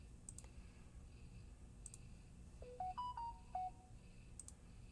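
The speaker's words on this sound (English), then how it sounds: "This phone never stops." A phone gives off a short run of quick electronic beeps in a rising-and-falling pattern, faint, among scattered clicks and a quiet room background.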